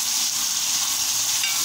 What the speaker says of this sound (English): Fry up a little to get that little brownish color.